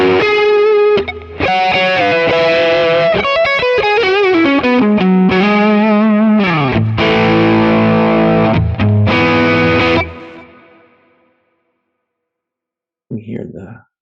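Electric guitar played through a high-gain overdrive pedal imitating a Klon, loud and close, with distorted chugging riffs and sustained chords that ring out and fade near the end, then a brief quiet sound.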